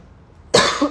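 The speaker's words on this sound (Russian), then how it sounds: "поэтому чуть-чуть кашель еще присутствует" A woman still recovering from illness gives a single sharp, close cough that breaks abruptly out of near silence and fades over about half a second.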